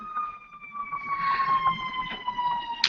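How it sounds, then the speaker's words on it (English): Emergency vehicle siren wailing outside on a busy street, a steady rising and falling tone that sounds fairly distant and holds for the whole stretch over traffic rumble. "Sorry, there's a siren."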